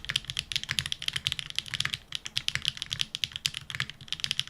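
Rapid typing on a foamless CU series custom mechanical keyboard, dense crisp clacks and taps in an uneven fast rhythm, close and clear with nothing else heard.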